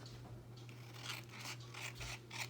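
Scissors cutting through punched blue paper for a fall banner, a run of soft crunchy snips and rustles close by over a steady low hum, no talking.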